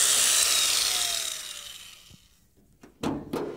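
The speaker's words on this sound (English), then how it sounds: "When doing this, be careful not to grind too much off or you'll weaken the weld." An angle grinder dressing weld beads on replacement rocker panels of a '66 Chevy truck, a loud abrasive whine fading away, followed by a couple of sharp metallic scrapes, close by.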